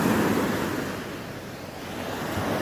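Sea waves wash steadily along the shore near a fish corral on a bright morning, a continuous broadband surf roar with gentle swells in loudness and some wind buffeting the microphone, no voices.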